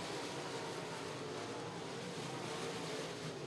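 Modified race cars circling Virginia Motor Speedway in an evening feature, a steady distant wash of engine roar, faint and continuous without distinct passes.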